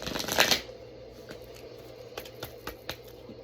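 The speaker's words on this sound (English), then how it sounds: "I'm going to shuffle the deck again." A quick riffle of tarot cards shuffling, then soft scattered clicks and flicks of the cards being handled, close and quiet.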